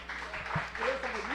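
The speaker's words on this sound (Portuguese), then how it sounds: "Vamos aplaudir a Jesus." A church congregation at an evangelical service claps in a steady wash of applause, with a voice speaking over it from start to finish.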